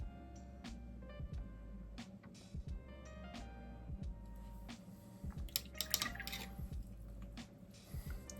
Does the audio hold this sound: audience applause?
no